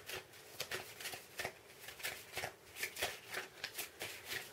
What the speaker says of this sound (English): We'll shuffle these and get some cards out to spin.